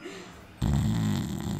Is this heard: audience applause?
no